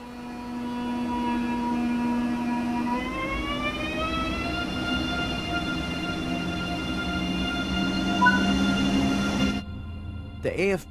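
A train's electric motor hum in Train Sim World 3 on the Kassel-Würzburg high-speed line rises steadily in pitch as it picks up speed, a continuous electric whine that cuts off abruptly near the end.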